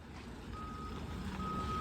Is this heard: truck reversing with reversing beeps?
yes